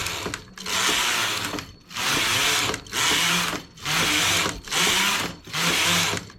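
A sewing machine runs in six steady bursts of rapid stitching, sewing rows of channels to pass elastic through, loud and close with brief pauses between runs and no talk.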